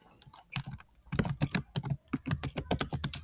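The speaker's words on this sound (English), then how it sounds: "let me just type this out" Someone types on a computer keyboard, the keys clicking rapidly and irregularly in short close bursts, with no talk over them.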